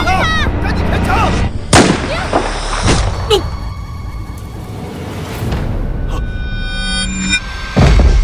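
Loud film gunfire erupts in sharp, widely spaced shots and thuds during a tense crime-drama standoff, punctuated by whooshing impacts over a rumbling soundtrack, with brief shouted voices mixed in.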